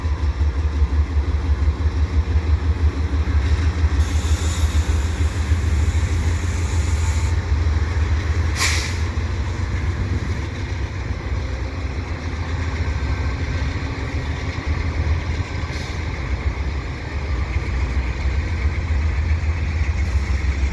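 A pair of CP AC4400CWM diesel locomotives idle at the head of a freight train, a steady low engine drone held throughout with a couple of brief higher hisses or squeals.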